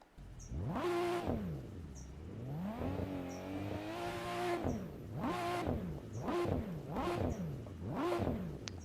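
A modded car engine in the Assetto Corsa racing game at a Goodwood Festival of Speed setting revs once long and high, then gives a series of sharp, repeated throttle blips, loud and close with no talking.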